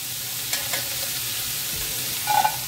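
Onion sautéing in a pan gives a steady close hiss of frying, with a brief scrape or clink of stirring near the end.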